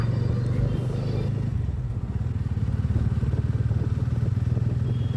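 A loaded motorcycle sets off on a weekend forest trip, its engine close and loud with a rapid, pulsing exhaust throb and a deep rumble that stays steady as the bike rides away.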